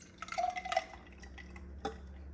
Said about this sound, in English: now I'm gonna go ahead and pour the rest of this Sunny D into my greens